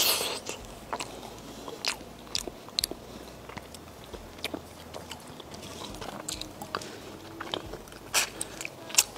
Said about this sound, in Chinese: 口感比我想的要更加的脆，就是它蜂巢是很薄的。